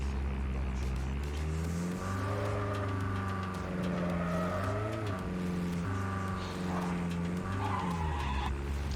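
Vehicle engine drones steadily in Call of Duty with shifting revs and tire skids, a loud continuous in-game driving sound with no voices.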